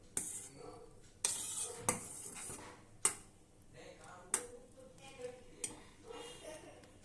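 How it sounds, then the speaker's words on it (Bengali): Milk boils in a pot for kalakand sweet while a spoon stirs it, giving irregular sharp clinks and scrapes against the metal over a soft bubbling hiss, with a quiet voice talking. "এইভাবে দুধটাকে খুব ভালো করে এটা ফোটাতে হবে।"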